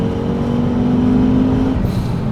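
An Audi RS2 accelerates hard on the autobahn, its engine note loud, steady and close throughout, with a sustained rising tone that drops away near the end.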